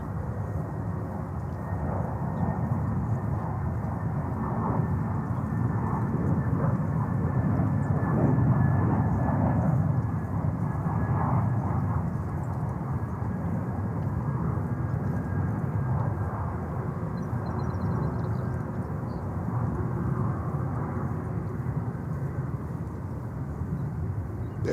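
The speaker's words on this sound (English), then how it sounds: "That gives us a view to the Korean 380 that's coming up here." A Korean Air Airbus A380 approaches the runway at JFK Airport in New York, its engines a steady broad roar that swells slightly midway and holds for the whole stretch, distant and continuous, with no voices.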